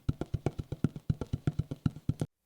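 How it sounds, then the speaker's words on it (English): Fingertips tapping on the top of a bucket, a steady run of soft hollow pats, about fifteen in a fast even rhythm, close and fairly quiet before stopping abruptly. "I'm going to use my fingertips, and so it's a little bit of softer sound."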